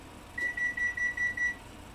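An oven signals it has finished preheating with a run of six short, evenly spaced electronic beeps, fairly quiet, in an otherwise still kitchen.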